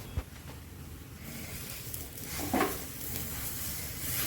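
Grated coconut frying in ghee while being stirred, a soft low sizzle with occasional scraping stirs, faint and close, no voices.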